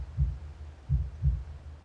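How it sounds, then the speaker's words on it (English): Recorded heartbeats play through a speaker at a World War II memorial in Kharkiv, deep muffled thumps in a slow lub-dub rhythm, alone and fairly close. "the only heartbeats allowed were recorded in the past and piped in by speaker"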